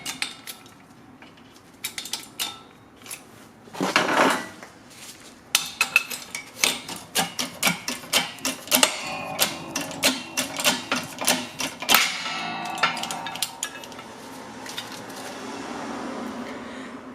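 A 12-ton shop press forces a worn ball joint out of a Honda Prelude control arm using sockets, giving a run of sharp metallic clanks, creaks and ticking strains that build toward a burst of loud cracks, then settle into a steady hiss.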